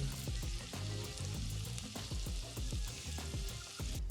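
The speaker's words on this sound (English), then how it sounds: "I'm adding a teaspoon of our Fenugreek Seeds into our Dutch oven with our onions" Onions and fenugreek seeds frying in a Dutch oven, a dense steady sizzle close by with frequent scraping stirs and small clatters, loud and continuous with no talking.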